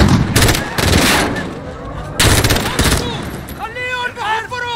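Bursts of rapid gunfire in Call of Duty: Modern Warfare (2019) crackle loudly in two main volleys, with shouting voices and sharp electronic chirps toward the end.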